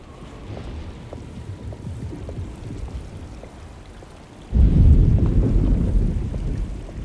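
Thunderstorm with rain in the horror game Alone in the Dark, a steady patter of rain that swells abruptly into a loud, rumbling thunder roll and then slowly fades under continuing rain.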